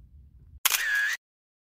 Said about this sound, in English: let's take a selfie